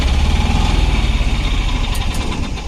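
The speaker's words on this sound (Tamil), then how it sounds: "இன்ஜின் சவுண்ட் வேற லெவலில் இருக்கும்." A Mahindra Jeeto mini truck's small engine runs close up with a fast, throbbing idle, loud and steady for a few seconds.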